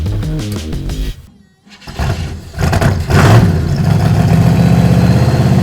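A Cadillac engine cranks briefly, cuts out, then catches and fires up, settling into a loud, steady rumbling idle.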